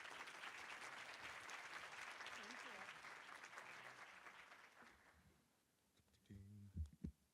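A crowd claps steadily for several seconds, then the applause fades out and a voice begins speaking near the end.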